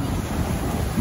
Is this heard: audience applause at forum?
no